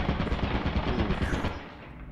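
Rapid automatic gunfire in the video game Lethal Company rattles out as a loud, continuous burst of close shots, tapering slightly toward the end with no talking.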